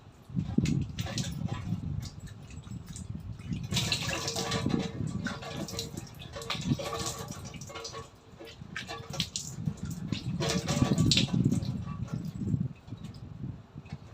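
Someone washes their face with rice water, making close splashing, dripping and wet rubbing sounds in irregular bursts with brief pauses between handfuls.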